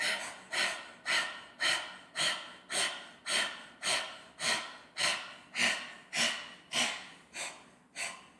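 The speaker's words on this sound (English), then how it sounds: "Inhale again. Breath of fire." Rapid kundalini breath of fire: about fifteen sharp, evenly spaced nasal exhales in a quick steady rhythm, close and fairly soft, with no talking.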